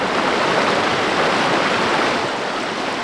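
A waterfall hidden in the wilderness roars with a continuous, dense rush of falling water, steady and fairly loud with no voices over it.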